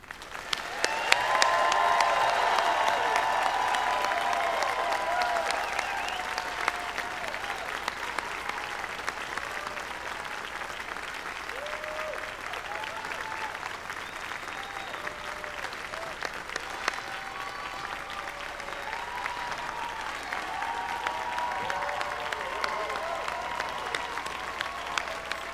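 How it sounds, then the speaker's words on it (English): Sustained audience applause at a law school graduation ceremony honoring the classes of 2020 and 2021, a dense steady wash of many hands clapping that swells at the start and holds for about twenty-five seconds, with faint crowd murmur underneath. "offering them a round of applause"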